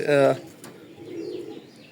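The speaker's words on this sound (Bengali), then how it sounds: "দুটা কবুতর মাসাল্লাহ খুবই সুন্দর কবুতর রানিং কবুতর" Racing pigeons of the Giribaz breed coo in a short, close, loud burst of throaty notes, followed by quieter background chatter and faint bird sounds.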